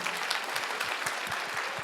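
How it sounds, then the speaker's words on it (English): An audience at an entrepreneurship talk claps for the speaker, brisk, even applause from a sizable crowd, close and continuous for the whole moment. "let's get a round of applause for Eldon."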